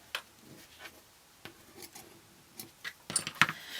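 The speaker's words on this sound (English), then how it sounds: "So I'll just use some scissors and trim those." Quiet snips and small clicks from scissors trimming fabric threads close by, sparse at first, then quicker near the end.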